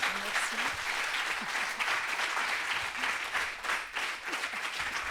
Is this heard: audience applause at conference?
yes